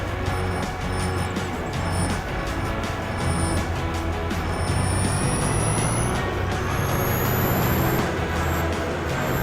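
A contractor's truck engine fitted with a turbo runs steadily nearby, with a continuous low rumble, a turbo whistle that rises and repeats, and air-brake hisses throughout.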